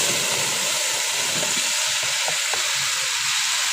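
Bottle gourd pieces for a tengra fish curry hit hot oil with fried spices, giving a steady close broadband sizzle with a few faint clinks of stirring, no voices.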